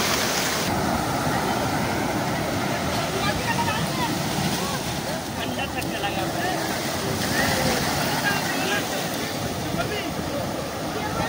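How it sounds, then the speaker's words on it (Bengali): Heavy surf roars steadily at Digha beach, with big waves breaking and wind buffeting the microphone throughout. Voices are faintly mixed in. "আজকে কিন্তু ঢেউ সেই বিরাট ঢেউ দিচ্ছে"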